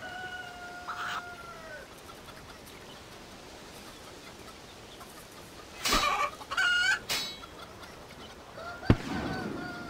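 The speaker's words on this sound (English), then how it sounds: "Where are chicken?" Chickens in the video game RuneScape giving short clucks and squawks, a few scattered bursts over a quiet background with a sharp click near the end.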